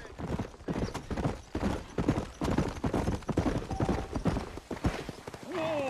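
Horse hooves clip-clopping steadily in the Red Dead Redemption western video game, a close, brisk rhythmic gait that continues throughout, with a voice speaking over parts of it.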